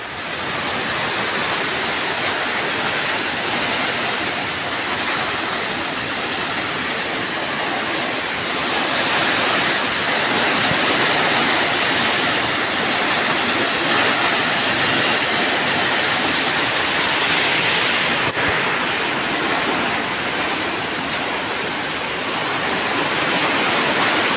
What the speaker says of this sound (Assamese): চাওক গাইজ, কেনেকুৱা বৰষুণ দিছে